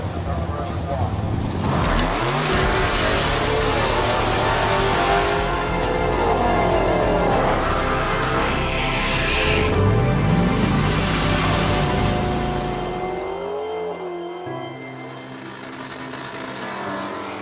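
A drag racing car launches and accelerates hard down the strip at a Quick Outlaw Series event at US 60 in Hardinsburg, Kentucky, its loud engine roar rising and sweeping upward while an announcer talks over it.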